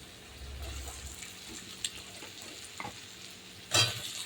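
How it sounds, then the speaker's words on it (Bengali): Fried potatoes tipped into a sizzling, cooked-down spice paste in a pan and stirred, giving a low steady sizzle with scattered scraping clicks and a sharper clatter near the end, close by with no talking. "এবার আমি এই মশলায় ভেজে রাখা আলুটাকে দিয়ে দেবো।"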